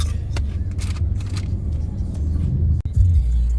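A car cruises along Marcos Highway on the way to San Mateo, heard from inside as a steady low engine and road rumble with brief thumps and clicks in the cabin.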